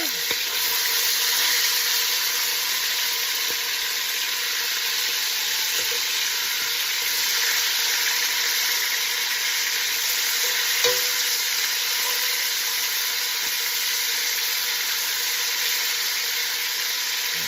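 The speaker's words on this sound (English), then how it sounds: "we're going to give that a good sear on one side and then flip it over and do the other side" Pork shoulder pieces sear in a hot pan with a loud, continuous, dense sizzle that holds steady throughout, with one small clink partway through.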